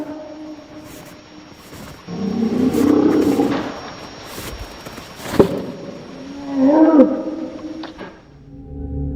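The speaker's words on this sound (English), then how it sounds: "A deep, bone-rattling roar shattered the quiet." A deep, rumbling roar said to come from Bigfoot, heard in several low swelling bursts separated by quieter gaps, loud and close, with the strongest surge near the end.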